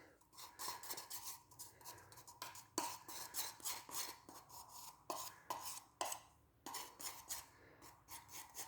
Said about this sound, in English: I'm mixing a bit of walnut putty, which walnut's dark, it'll come up almost black